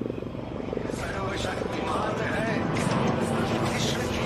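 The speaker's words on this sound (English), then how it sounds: "the Prachand is exiting after an enthralling display." A HAL Prachand light combat helicopter flies at an air display, its rotor chop and engine whine steady and moderately loud, with a voice speaking over it.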